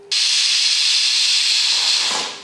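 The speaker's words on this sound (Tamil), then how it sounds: "இப்போ பார்த்தீங்கன்னா குக்கர் மூடி போட்டு விசில் போட்டுடலாம்" A pressure cooker lets out a loud, close hiss of escaping steam after a brief quiet start. It holds steady for about two seconds and then fades away.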